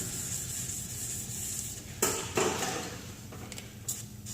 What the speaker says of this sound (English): So this is my wet sanding technique.